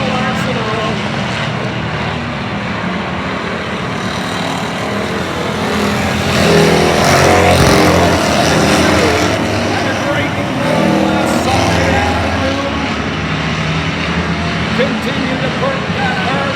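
Street stock race cars roar around Oyster Bed Speedway at night, a loud, continuous engine din that swells as the pack passes, under a track announcer's commentary.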